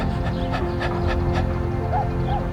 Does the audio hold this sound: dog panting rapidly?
yes